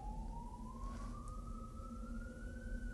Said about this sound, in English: Can you hear sirens?